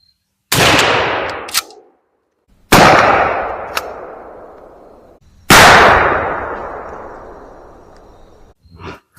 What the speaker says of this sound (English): We're going to shoot out of this Remington A70 with a 28-inch barrel and the Kick 665 choke.